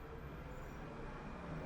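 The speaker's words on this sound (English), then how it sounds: "A kind of electrical sound starts up as it moves away" Modern electric train starting up and pulling away, a dense broadband rumble with a rising electrical whine, steady and fairly close, no voices.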